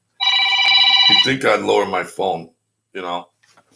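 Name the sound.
telephone ringing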